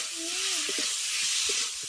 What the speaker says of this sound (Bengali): সরষে বাটা বেশি ভাজার দরকার নেই, হালকা করে ভাজলেই হয়।